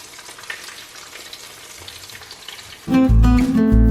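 Chicken frying in shallow oil, a steady crackling sizzle that swells abruptly louder near the end as pieces are stirred or turned, no talking.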